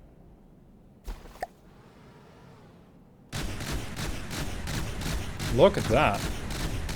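Flak shells from a gun in From The Depths fire in a sudden dense barrage of rhythmic booming shots after a quiet start with a couple of small knocks; someone speaks briefly partway through.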